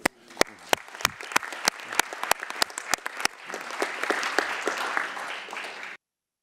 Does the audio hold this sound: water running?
no